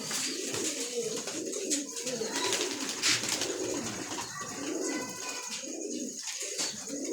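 Pigeons cooing in a loft: continuous throaty coos from several birds close by, with scattered chirps and faint background noise.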